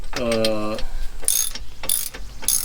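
A small, short ratchet clicks while tightening 9/16 bolts on a tie rod bracket of a Tiffin motorhome, giving a few quick close ratcheting strokes with a tonal squeal at the start and mechanical noise throughout.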